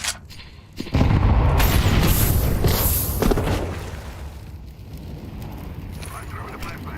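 A video game grenade goes off with a loud booming blast about a second in, its roar holding for a couple of seconds before fading into rumbling background noise.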